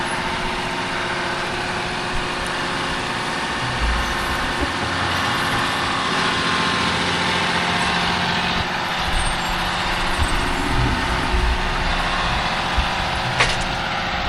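A heavy diesel tractor engine runs steadily and loudly throughout, a deep continuous drone with a faint whine on top.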